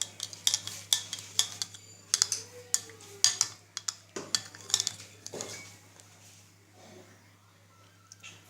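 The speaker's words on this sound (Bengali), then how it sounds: "এখন আমি এটাকে চামিচ দিয়ে নেড়ে মিক্স করে দিচ্ছি।" A spoon stirs a bread dough mix of flour, sugar and salt for naan, giving a run of quick close clinks and taps against the bowl that slow and fade toward the end.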